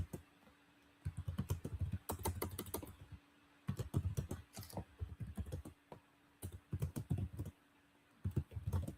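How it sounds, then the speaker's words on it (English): Bursts of clicky keystrokes on a computer keyboard, rapid typing in short runs separated by brief pauses, close and fairly quiet. "Sorry, I'm just typing something in."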